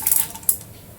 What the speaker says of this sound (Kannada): ಸ್ವಲ್ಪ ಕಡಲೆಬೇಳೆ ಹಾಕ್ತಾ ಇದ್ದೀನಿ